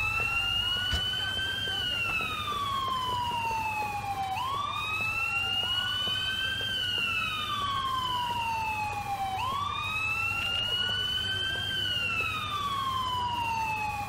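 Wailing ambulance siren in Grand Theft Auto: Episodes from Liberty City, its rising and falling sweeps repeating steadily and loudly over a low engine rumble as the emergency vehicle arrives.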